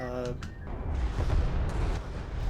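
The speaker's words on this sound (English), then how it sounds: "Looks like turret under some fire here as well." A defensive turret takes fire in a 1v1 strategy video game match: muffled battle booms and scattered gunfire-like thuds rumble along at moderate volume, with a brief tonal game cue at the start and a voice talking over the action.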